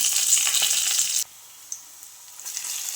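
Curry leaves and fenugreek seeds sizzle loudly in hot oil for poha upma, a bright steady crackle that suddenly drops to near quiet, then a single pop and a rising sizzle again.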